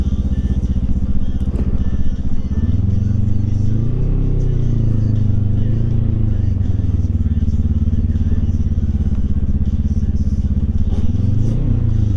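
A motorcycle carrying a passenger runs steadily close by, its engine a loud continuous drone with a couple of mild rises in pitch as it revs, rattling and clattering faintly underneath.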